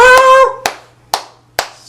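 Hands clap three times in sharp, evenly spaced smacks, close and loud, after a brief sung or hummed vocal tone at the start.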